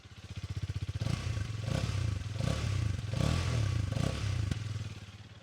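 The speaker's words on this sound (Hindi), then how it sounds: "अब एक बार करिश्मा XMR 210 की साउंड सुन लेते हैं" A Hero Karizma XMR 210 motorcycle engine idles with a deep pulsing throb, then revs several times in short bursts before settling back, close and loud.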